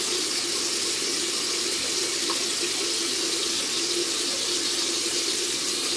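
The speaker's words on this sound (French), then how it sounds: "Ensuite soit je viens rincer à l'eau claire." Running water splashes steadily while a face is rinsed clean with water and a wipe during an evening makeup-removal routine, a continuous close tap-like wash with no talking.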